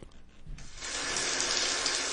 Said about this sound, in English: Daisy, what are you doing in your shower?